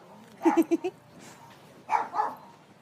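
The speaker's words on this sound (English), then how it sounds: "Good guard dog, Amanda." A guard dog barks nearby in a quiet room: a quick burst of four sharp barks, then a pause and two more.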